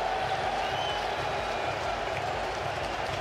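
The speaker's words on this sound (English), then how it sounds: "this crowd now is just building a wall of noise here at Target Field" A large baseball crowd at Target Field roars in a sustained, loud wall of cheering and applause, steady and unbroken throughout.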